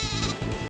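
Sheep bleating in the Sega Saturn motorcycle racing game Manx TT, several loud overlapping bleats in quick succession, cutting off abruptly.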